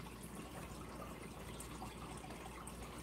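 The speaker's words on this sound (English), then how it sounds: "And water that we hear is coming out of the 25." Water runs continuously in a fish tank in a home fishroom, a faint, even trickling and gushing hiss with no pauses.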